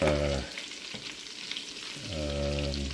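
Garlic sizzles in melted butter in a pan, a steady frying hiss broken by a short pause in the middle as it is stirred, with no voices.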